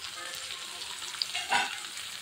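Gima greens hit hot oil and fry with a steady, close sizzle, a brief louder burst of crackling in the middle, no voices.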